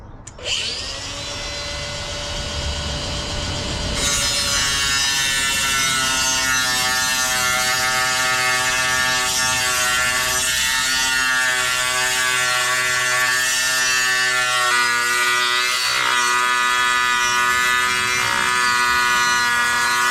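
A power tool cuts freehand through ceramic floor tile, starting with a brief spin-up, then settling into a loud, sustained high-pitched grinding whine that holds steady with slight wavering as the blade bites into the tile.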